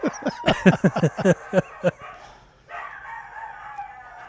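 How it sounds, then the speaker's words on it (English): Several dogs bark in a quick burst of about eight sharp, loud barks close by, then a quieter, sustained whine or howl trails off at the end. "Are they still barking? Yeah, they're still going."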